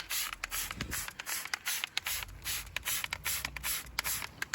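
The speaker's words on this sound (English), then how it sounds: "I'm gonna spray down the tires" CarPro Iron X wheel cleaner is sprayed onto car wheels and tires in short, repeated hissing bursts from a trigger bottle, close and loud, with brief pauses between pumps.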